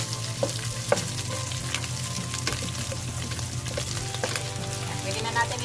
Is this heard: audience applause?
no